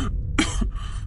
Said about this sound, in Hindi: खांसती हुई श्रावणी एक गहरी सांस लेते हुए उठ बैठी।